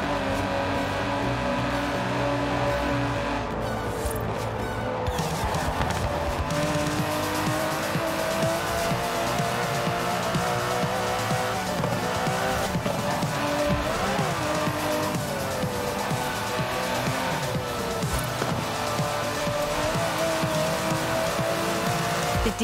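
An Aston Martin DB11 drives hard in Forza Horizon 4, its engine note droning loud and close throughout with rising and falling revs, gear changes and bursts of tire squeal through corners.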